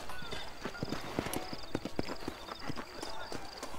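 Horse hooves clip-clop steadily in the Red Dead Redemption video game as a rider heads out on the trail from town, a soft rhythmic plodding under faint background ambience.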